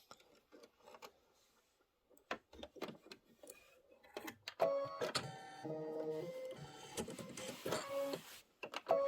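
An embroidery machine stitches out a quilt block, its needle running in a fast, steady mechanical rhythm with brief pauses and tonal motor whine, close and fairly quiet, with no talking.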